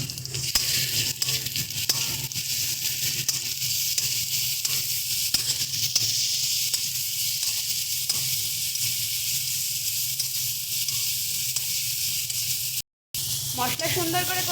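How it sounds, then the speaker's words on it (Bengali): Spices with dried chilli powder and salt sizzle steadily in hot oil in a pan, a dense, continuous frying hiss with light stirring, cut by a brief silence near the end. "দিয়ে এটাকে ভালো করে আমরা কষিয়ে নেব"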